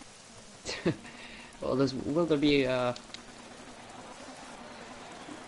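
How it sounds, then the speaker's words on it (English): Rain falls in a Formula C racing video game as a steady, soft hiss that runs throughout while a commentator speaks briefly over it. "will the rain clear? Well, it's still getting worse."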